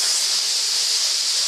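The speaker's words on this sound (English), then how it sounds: "the steam pressure pushes the dirt out" A Euroflex steam cleaner blasts steam onto tile grout, a loud, steady, close hiss sustained throughout with no pauses.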